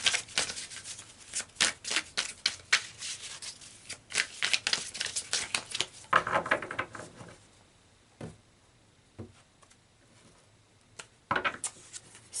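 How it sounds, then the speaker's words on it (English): Tarot cards shuffled, slid and pulled from a deck at close range, a quick run of crisp flicks and papery rubs followed by scattered single snaps with short pauses, no voices. "So let's pull some more cards here."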